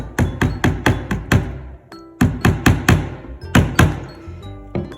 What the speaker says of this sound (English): Hammering it in just a little bit, so enough that it goes into the wood, just like that.